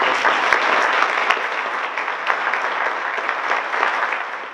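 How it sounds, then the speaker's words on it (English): Applause from a large community celebration crowd, a dense, even roar of many hands clapping that holds steady throughout. "So let's give ourselves a applause"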